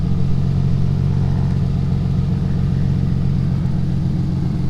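A Nissan 350Z engine runs steadily and loudly close by with a constant low rumble, just after a driveshaft install, without revving or talking.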